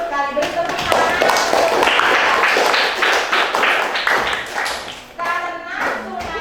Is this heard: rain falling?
no